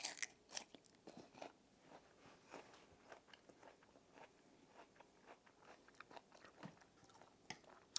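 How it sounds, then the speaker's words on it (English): Someone eating a zucchini breakfast with sliced potatoes and onions, giving soft close crunches, bites and chewing in an irregular rhythm, faint and alone. "that's enough of me of chewing and eating"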